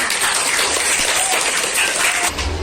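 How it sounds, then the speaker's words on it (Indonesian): A classroom of students applauding a classmate, dense steady clapping filling the room at close range throughout, briefly swelling near the end. "beri aplaus semuanya"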